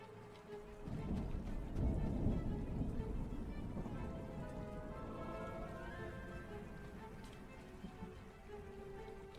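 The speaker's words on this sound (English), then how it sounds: "Storm has broken, remain sheltered." A thunderstorm with rain in the video game Smalland: a steady wash of rainfall with deep rolling thunder building early and lingering, broad and enveloping throughout with a faint tonal hum underneath.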